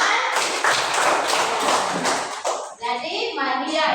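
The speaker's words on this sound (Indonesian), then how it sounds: "Bagus, tepuk tangan." Classroom of children clapping in a religion lesson: a short burst of brisk hand claps for about two and a half seconds, then a voice and a teacher's speech follow.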